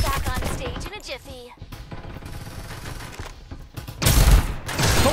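Gunfire in the battle game Farlight 84 during a team deathmatch: bursts of rapid shots mixed with game sounds, growing louder and denser toward the end, with a voice talking over part of it.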